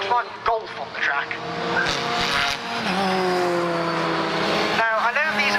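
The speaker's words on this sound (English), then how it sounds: "Why is there a Volkswagen Golf on the track?" A Volkswagen Golf being driven on a race track, its engine note rising through the gears in a loud, close, steady drone with brief tire noise, while people talk over it inside the car.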